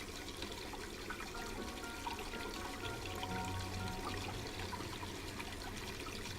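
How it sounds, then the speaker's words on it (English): Water running and bubbling in Black Mirror 2, a steady watery trickle and wash that carries on evenly at moderate level throughout, with no voices. "The water is boiling hot."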